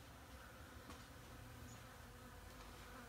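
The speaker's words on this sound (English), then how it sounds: "all of a sudden, like, a dozen bees decided to hover in the garage here" Several bees hovering inside a garage give a faint, steady buzzing hum that runs unbroken throughout against a quiet indoor background.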